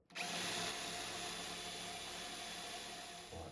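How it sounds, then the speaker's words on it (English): A power drill with a diamond bit whines steadily at close range, grinding continuously into a wall for a few seconds before winding down, with no talking. "So I've got a diamond drill bit in there."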